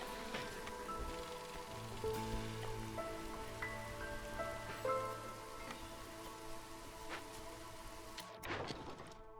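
Drizzle rain in the video game Against the Storm makes a steady patter beneath tonal in-game music, and a cluster of thumps and clatter follows near the end.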